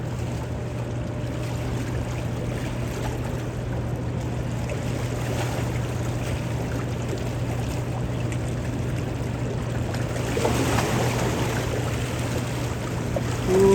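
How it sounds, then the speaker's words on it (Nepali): Water gushes out of the ground, a steady close rushing and splashing that runs unbroken and swells slightly near the end, with a faint low hum underneath. "फ्याक्दो रहेछ पानी"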